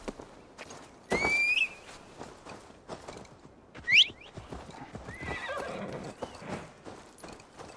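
A horse in Assassin's Creed Valhalla clops along with steady hoofbeats, giving two sharp whinnies over faint game ambience, with no talk.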